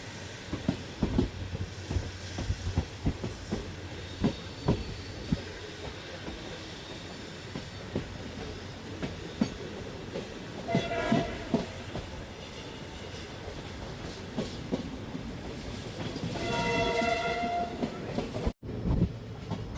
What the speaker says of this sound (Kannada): ಸುಮಾರು 2 ನಿಮಿಷ ಹಾಲ್ಟ್ ನಂತರ ನಮ್ಮ ಟ್ರೈನು ಕಡೂರು ರೈಲ್ವೆ ಸ್ಟೇಷನಿಂದ ಹೊರಟಿದೆ